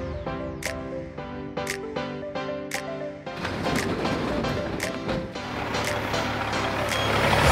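A truck reverses with steady, evenly spaced beeps, clear at first and then partly buried under a rising wash of engine and outdoor noise.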